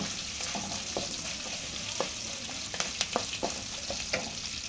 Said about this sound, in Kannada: ಉಳ್ಳಾಗಡ್ಡಿ ಕಟ್ ಮಾಡ್ಕೊಂಡು ಒಗ್ಗರಣೆ ಕೊಟ್ಕೊಂಡು ಈಗ ಒಟ್ಟಿಗೆ ಮಿಕ್ಸ್ ಮಾಡೋಣ್ರಿ.